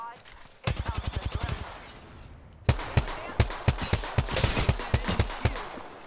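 Rapid automatic gunfire in Apex Legends, a fast burst of evenly spaced shots followed by a longer, slightly slower string of loud, close rounds.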